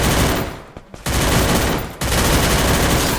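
Sustained automatic AK rifle fire from the Free Fire video game, a loud continuous rattling burst broken by two brief pauses before resuming at full intensity.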